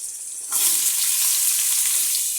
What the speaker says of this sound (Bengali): এবার একইভাবে কলা যেভাবে বাছলাম এভাবে আলুটাও ভেজে নিচ্ছি